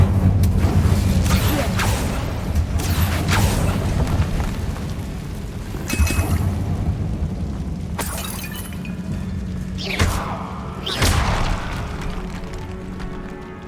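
A booming fire spell, Incendio, cast in Hogwarts Legacy inside a decayed catacomb: loud, dense roaring bursts with crackling, shattering impacts and a few sharp hits over a heavy continuous rumble.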